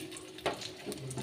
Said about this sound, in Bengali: প্রথমে একটু কড়াই তেল দিয়ে দিয়েছি দিয়ে আলুগুলো আগে ভেজে নিই